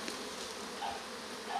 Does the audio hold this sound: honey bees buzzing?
yes